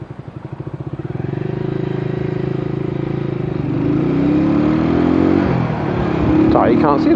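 Motorbike engine droning steadily while riding at night in rain, a low harmonic hum that rises in pitch as the bike accelerates, close and loud throughout with a brief rev near the end.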